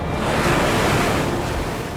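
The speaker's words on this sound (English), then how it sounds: "dominated by waves up to 30 meters high" Heavy ocean surf pounds under gale-force wind off Cape Horn, a dense, unbroken roar that stays loud and steady throughout.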